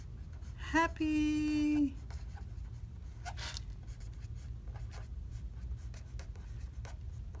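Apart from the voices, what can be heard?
writing on a handmade card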